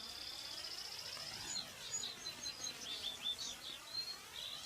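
Birds in a Naruto Shippuden anime episode chirp in quick, high, repeated tweets over a faint, even background hum, fairly soft and with no talk.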